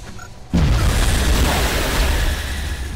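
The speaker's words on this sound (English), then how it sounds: "Throwing grenade!" A video game grenade detonates with a sudden loud boom, then a heavy rumbling roar that lingers and slowly tails off over a few seconds, close and dominant with no talk over it.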